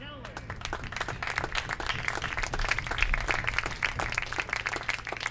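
At an American Legion World Series awards night, a crowd applauds for a Post 400 Comets Gold Glove winner, a dense and sustained patter of clapping with voices murmuring underneath.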